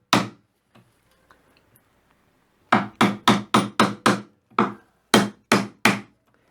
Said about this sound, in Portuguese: vou começar a dar umas batidinhas